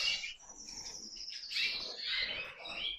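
Competition songbirds, grey birds on a white ground, chirp and trill in bright overlapping phrases, close and clear, with a sustained high warbling line and no voices.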